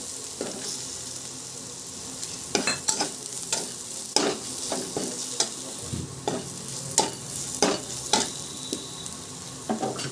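Garlic chutney frying in a pan for a green peas curry, a steady sizzle beneath repeated sharp scrapes and clinks of the stirring spoon.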